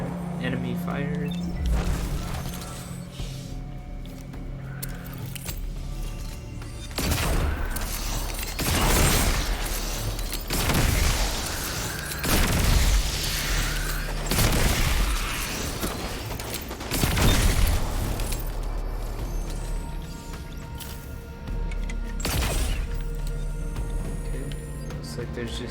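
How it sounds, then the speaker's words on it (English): Bursts of gunfire and heavy explosions erupt during a firefight in the video game Destiny 2: Beyond Light, arriving in irregular loud blasts and crashes separated by short lulls of mechanical background noise. "Definitely should not run in the middle of enemy fire."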